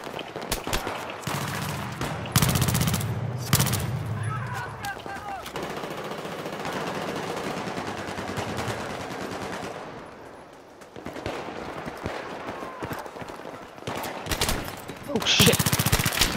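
Battlefield 3 multiplayer gunfire in scavenger mode, with bursts of automatic weapon fire and scattered shots, loud at moments and then dipping before picking up again, over a background of game noise and occasional voices.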